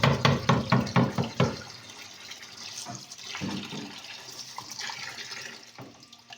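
Quick rhythmic taps on a Haier twin-tub washing machine holding water, a close burst of about a dozen knocks over the first second and a half, followed by softer sloshing and trickling water.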